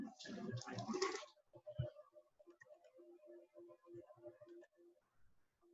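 Computer keyboard moved aside on a desk in a classroom setting, a burst of scraping and knocking followed by a run of light, evenly spaced ticking clicks, close and fairly quiet.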